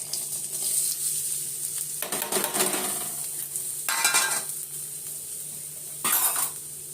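Onions and capsicum fry in a pan for egg pulao, a constant soft sizzle broken by three bursts of stirring and scraping, close and clear with no talking.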